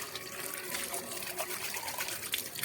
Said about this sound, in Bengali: তারপর একটু বাটিটা ধুয়ে নিই।